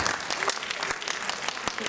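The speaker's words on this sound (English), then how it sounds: "So give them a big round of applause." An audience at a Diwali event applauding donors, a brief burst of crowded clapping with sharp individual claps standing out, near and steady throughout.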